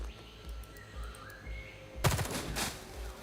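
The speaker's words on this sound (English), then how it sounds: "So we suppress you with gunfire." Machine gun fire from the video game Xenonauts 2 breaks into a quiet scene as a sudden, loud burst of rapid shots lasting about a second, with soft background tones before it.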